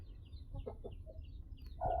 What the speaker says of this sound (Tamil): பாருங்கள் கோழி அந்த பக்கம் படுத்துருக்குது